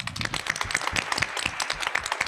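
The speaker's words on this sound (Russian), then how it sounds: "аплодисменты звучат" Audience applauding a third-place winner at a women's singing contest final, a brief, dense patter of many hands clapping close by, with no voices.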